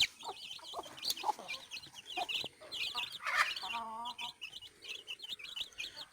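Black-skinned native Kerala hens cluck and chirp in short repeated bursts, close and fairly quiet, with a few sharper calls standing out and no one talking.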